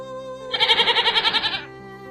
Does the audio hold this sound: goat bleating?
yes